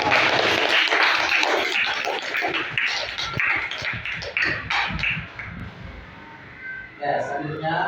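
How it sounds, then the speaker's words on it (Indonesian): A classroom of students clapping, a dense burst of applause that fades over several seconds, with voices talking through it and a brief renewed rustle near the end. "Oke, tepuk tangan."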